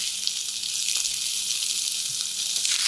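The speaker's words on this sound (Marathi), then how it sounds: "हे असं तळलं गेलं पाहिजे पनीर" Paneer fries on high heat in hot oil, giving a steady, loud, close hiss of sizzling that holds without a break for about three seconds.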